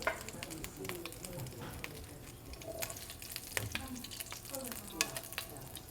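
Peppercorns popping in hot oil in a pan over medium-high heat: scattered crackles and small sharp pops over a steady sizzle, spread irregularly throughout.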